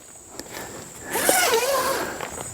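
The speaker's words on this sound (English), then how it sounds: "bring your zipper halfway over" A hammock tent zipper is pulled in one steady run of about a second and a half, preceded by faint handling rustles and followed by quieter fabric movement, close up with no talking.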